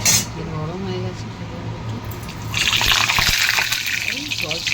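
Water poured slowly into a pan of hot oil, starting as a steady trickle and then bursting into a loud, broad hiss and sizzle halfway through; a voice is heard briefly at the start.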